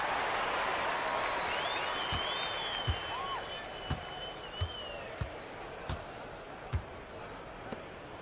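A home crowd in a basketball arena roars and cheers a victory in a continuous loud wash of applause and whistles, with a basketball bouncing steadily underneath and a commentator speaking over the noise.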